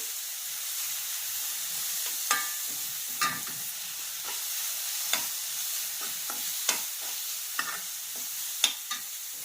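Cooked curry leaves crackle and sizzle in a pan while broken samba wheat uppumavu is being made, a soft frying hiss punctuated by sharp pops and spoon scrapes at irregular intervals, close up and with no voices.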